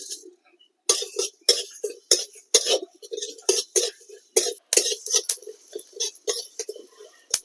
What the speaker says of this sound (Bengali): এবার এগুলো শুকনো গলায় ভেজে নেব